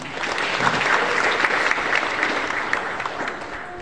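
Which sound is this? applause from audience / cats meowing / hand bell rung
applause from audience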